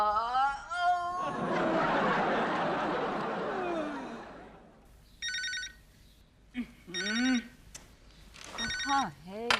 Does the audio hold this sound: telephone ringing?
yes